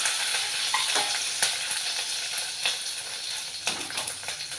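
Green and dried chilies with mustard seeds fry in hot oil, a steady close sizzle with occasional sharper crackles and pops throughout.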